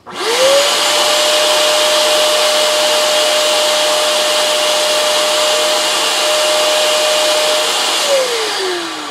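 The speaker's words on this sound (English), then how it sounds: "I'm just going to turn this uh, wet vac on." A wet vac powered by a 2,000 watt portable solar generator starts up, whines steadily and loudly for about eight seconds, then winds down, with no talking over it.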